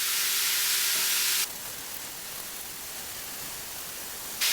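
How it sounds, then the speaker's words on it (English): Ground beef sizzles in a hot oiled pan with onions, a loud broad hiss that shifts abruptly partway through and then continues steadily. "Next, we want to get our beef in there and start browning it off."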